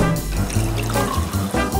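Water poured from a bottle or jug into a glass in a home setting, a steady close trickling pour running throughout with a few splashy surges and no talk over it.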